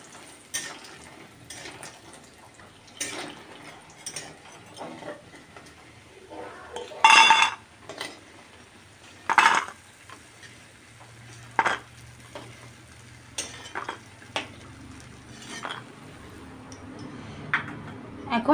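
Hot-oil-fried lentil dumplings lifted out of a pan: sparse metallic clinks and scrapes of a utensil against the pan, two sharper clanks standing out, over a faint background hiss.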